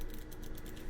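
Quick, light keystrokes on a computer keyboard while a network command is entered during Cisco OSPF exam practice, a soft, steady patter of clicks at low volume.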